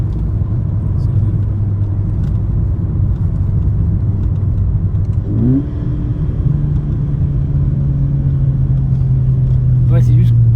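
A Volkswagen Polo 6 GTI idles with a steady low engine drone and heavily muffled exhaust, rising briefly in pitch around the midpoint before settling back to a smooth, continuous hum, close by with people talking over it.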